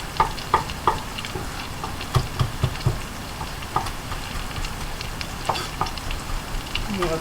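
Food frying in a pan, a steady close sizzle with scattered sharp pops and spatters throughout, with no talk over it.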